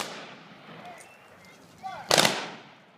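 A single loud gun salute volley fires at a flag retirement ceremony in front of a war memorial in a park, a sharp broadband crack near the end following quieter outdoor ambience.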